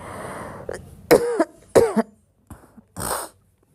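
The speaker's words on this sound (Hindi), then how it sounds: "गला मेरा बहुत सूखता है तो खांसी आती है" Several sharp coughs close to the mic, a rough burst at first, then separate hacking coughs with brief pauses, ending in one breathy cough.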